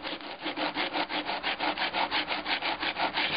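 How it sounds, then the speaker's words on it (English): Sandpaper wrapped around a flat stick rubs back and forth over a solder repair on a birdwing butterfly display, giving about twenty regular rasping strokes, close and steady. "just sand it down"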